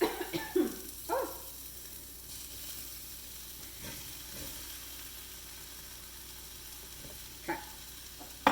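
Mushrooms sizzle and hiss steadily as they fry in a hot pan for a vegetarian Philly cheese dish, with a few soft clatters of stirring near the start and at the end.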